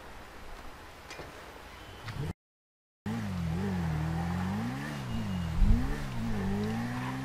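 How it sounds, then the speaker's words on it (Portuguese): A Suzuki Bandit motorcycle, around 600 cc, in the GTA V video game: its engine drones steadily and loudly, revving up and down in smooth waves after a brief gap, with no talk over it. "Olha aí nossa motoca, mano. Uma Suzuki Bandit."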